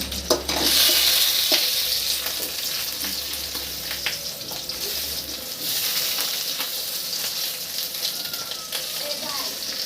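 Green chillies frying in oil in a home kitchen, a loud steady sizzle with stirring clinks, the crackle easing after a few seconds and swelling again midway.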